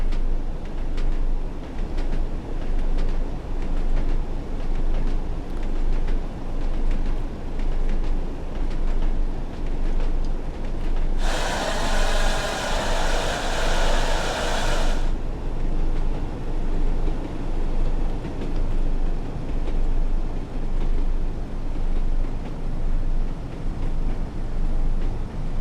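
A Class 101 diesel multiple unit in Train Sim World 2 rumbles steadily on the line between Leeds and Huddersfield, with a low continuous drone and a brief bright hiss or horn-like burst partway through.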